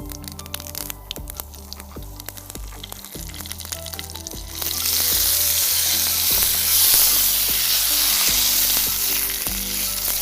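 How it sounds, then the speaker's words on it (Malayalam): Mustard seeds crackle in hot oil for prawn theeyal, a Kerala curry, with soft pops over a faint tonal background, until curry leaves go in and a loud, steady sizzle takes over halfway through. "കടുക് പൊട്ടി തുടങ്ങിയിട്ടുണ്ട്. ഈ സമയത്ത് നമുക്ക് ഇതിലേക്ക് കുറച്ച് കറിവേപ്പില ചേർക്കാം."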